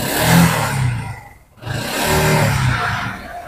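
A used Bajaj CNG auto-rickshaw's engine runs close by with a rough, clattering roar that dips briefly to near silence mid-way before picking back up.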